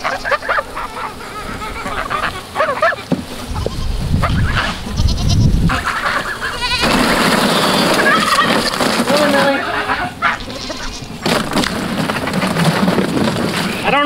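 Goats bleat in a busy outdoor farm setting, their calls mixed with continuous background noise and people talking nearby throughout.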